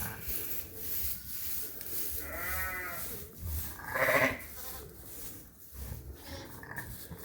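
Sheep bleat on a farm at lambing time, two or three wavering calls close by, with rustling and low background noise between them.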